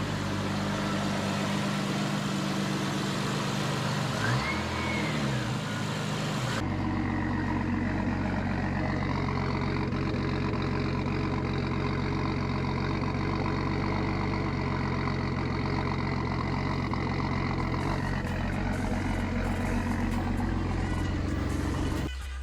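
A Nissan Stagea's RB25DET engine idles close by through a new custom dump exhaust with a deep, even rumble, the tone shifting slightly as it settles, with no talking.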